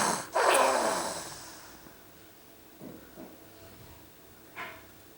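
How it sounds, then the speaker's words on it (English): A small male cat snores with one loud snorting breath followed by quieter, spaced breaths, close and faint in a quiet room. "For such a little baby boy, he's just got a pretty big snore."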